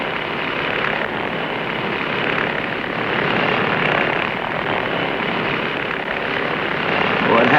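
Loud, steady roar of an aircraft engine at takeoff, a dense continuous drone with propeller-like churn holding strong throughout, with a voice speaking over it.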